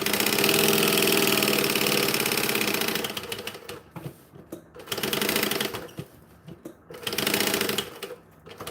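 A sewing machine bastes quilt pieces together, running in a long steady burst and then in several shorter start-stop runs separated by quiet pauses, loud and close.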